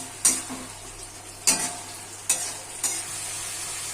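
Fried potatoes being stirred into a sizzling spice masala for a rohu fish curry, with four sharp scraping strokes of a spoon against the pan over a steady fry.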